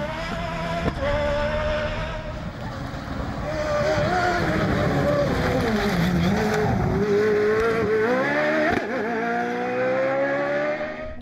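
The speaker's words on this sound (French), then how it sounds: "Très rapide et régulier, Jérôme Bricheux prend une très belle deuxième place au volant de son Rivet Cyclone" A Rivet Cyclone rally car racing fast on a rally stage, its engine roaring loud and continuous with rising and falling revs and gear changes throughout.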